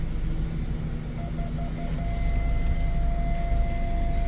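A 2021 Honda HR-V RS front parking sensor sounds a steady electronic tone inside the cabin after a few short broken beeps, held over a constant low engine and cabin hum.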